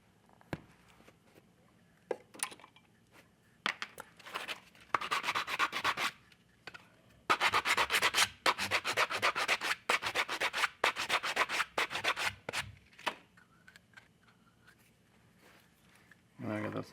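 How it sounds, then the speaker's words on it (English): Close scraping and rubbing while a part of a 1/6-scale vinyl figure kit is trimmed, coming in irregular bursts with a dense run of rapid strokes in the middle and quiet gaps between. "I'm going to trim this up real quick."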